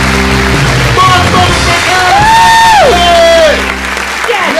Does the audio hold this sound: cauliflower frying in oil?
no